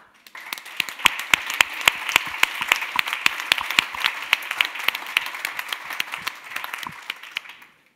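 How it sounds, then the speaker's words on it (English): An audience at a conference wrap-up applauds partners, individual claps sharp and distinct as a fairly small crowd claps steadily before trailing off at the end. "I would like to have an applause for you as well"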